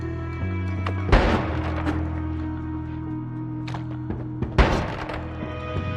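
A Noita wand firing like a flak cannon, with two loud, sharp bursts about three and a half seconds apart over a steady humming background and a few smaller pops.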